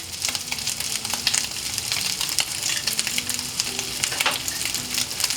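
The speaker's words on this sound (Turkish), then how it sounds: "Ondan sonra tekrar kavurmaya birazcık daha devam ediyorum." Chunks of meat sizzle and crackle steadily in garlic oil in a pan for çökertme kebab, a dense close hiss with scattered pops and occasional clinks, no talking.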